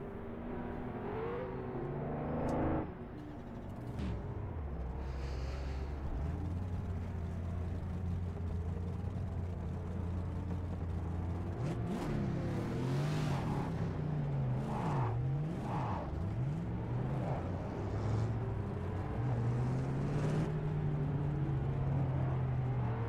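A 1956 race car engine in the rFactor 2 racing game, idling low and steady, then revving up and down through the gears in a rising and falling whine with a harsh, slightly glitchy edge, heard close and alone.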